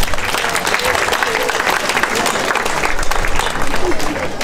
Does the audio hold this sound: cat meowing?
no